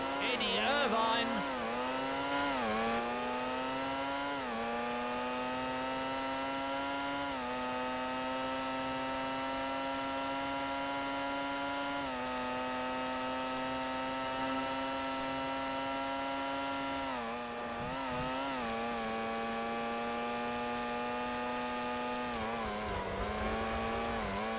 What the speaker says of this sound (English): The engine noises are pretty rough in this game.